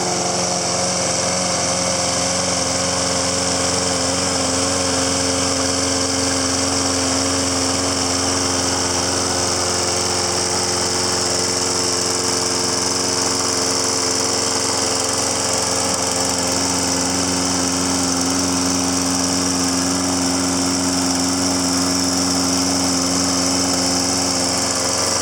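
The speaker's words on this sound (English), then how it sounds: "Excellent lawnmower. Two really excellent lawnmowers." Steady drone of a Toro Recycler walk-behind lawn mower engine running while mowing, loud and close, holding an even pitch without a break and with no talk over it.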